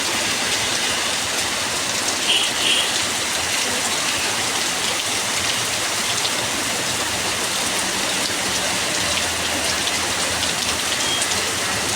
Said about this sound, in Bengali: যশোরে কিরাম বৃষ্টি হচ্ছে তাই দেখতেছি